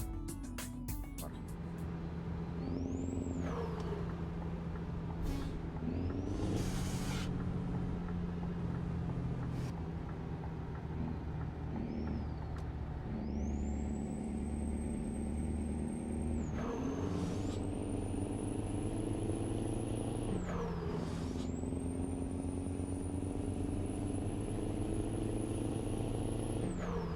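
A Scania truck's engine drones on a highway in the Euro Truck Simulator 2 video game, with steady low tones rising and falling through gear changes and occasional hissing air-brake releases. It plays fairly quietly throughout.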